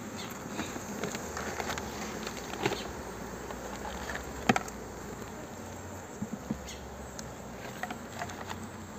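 A dense, steady buzz of many honeybees close by on a hive comb, with faint soft taps and rustles now and then.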